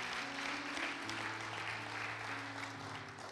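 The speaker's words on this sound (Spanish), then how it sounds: "Denle un aplauso a Jesús si usted lo cree." Church congregation applauding during a sermon, a sustained wash of clapping from a crowd lasting the whole moment, with a held musical tone sounding underneath.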